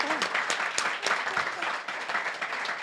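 Applause from a live podcast audience, a dense wash of many hands clapping steadily at moderate distance for the whole stretch, with a few voices mixed in.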